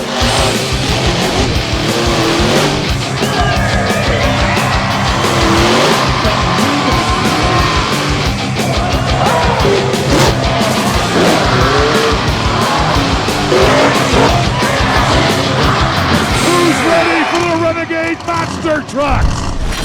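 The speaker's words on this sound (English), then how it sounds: "Monster Trucks!" Monster trucks racing and skidding at the Renegade event in Marietta, Ohio: dense, loud engine roar and squealing tires running continuously, with crowd yells and commentary-like voices mixed in.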